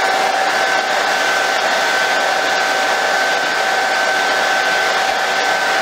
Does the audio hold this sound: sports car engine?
no